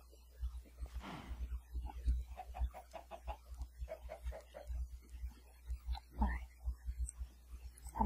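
Chickens clucking on a farm in the survival game Gulliver, a steady stream of short, pecking clucks repeating in irregular rhythm, close and moderately loud with a few louder squawks.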